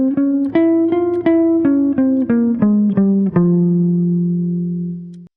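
An F harmonic minor scale is played note by note on a clean, sustained electronic instrument tone, eight steady steps with the last note ringing out and fading.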